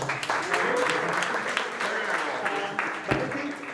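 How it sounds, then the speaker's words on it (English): An audience at a startup competition event applauds, steady dense clapping filling the room for several seconds, with a speaker's voice faintly under it. "Come on, guys, applaud."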